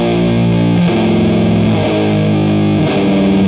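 Heavily distorted electric guitar chugs through a slow doom metal riff built on dyad chords, loud and sustained with held notes shifting pitch a few times, no voices.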